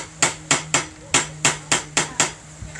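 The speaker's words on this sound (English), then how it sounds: "Mine is the rawhide. So I just hit it, and it makes it back flat." A rawhide mallet strikes a piece of silver to flatten it at a Native American arts and crafts fair, eight crisp evenly spaced blows close to the ear, with a faint hum underneath and no voices.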